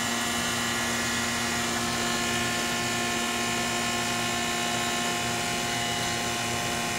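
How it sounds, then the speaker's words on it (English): An old Bristol HVAC compressor running after a repair, a constant droning hum with a steady mechanical whine, unbroken and fairly close, with no talking. "The lovely sounds of an old Bristol."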